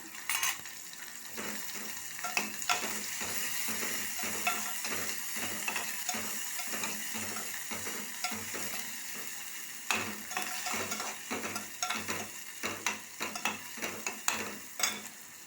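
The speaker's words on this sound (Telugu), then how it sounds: "ఉల్లిగడ్డ వేస్తున్నా" Chopped onions fry and sizzle in a pan for Maggi noodles with tomato, under a steady hiss, while a spoon stirs and scrapes against the pan in repeated close clinks and taps.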